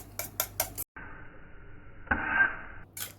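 Four eggs with salt being beaten in a bowl: a few quick metallic clinks of a utensil against the bowl, then a bright ringing scrape, followed by more short taps, close and alone.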